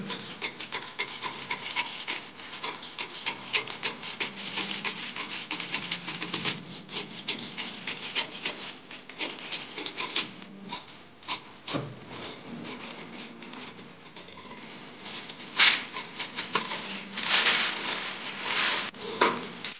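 Scissors cut sewing pattern pieces from paper for a flounced skirt, giving a continuous close rustling and crisp snipping with paper handling throughout.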